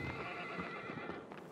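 Horse in the video game Shadow of the Colossus, a steady clatter of hooves and snorting up close, with a whinny-like cry over a constant wash of game ambience.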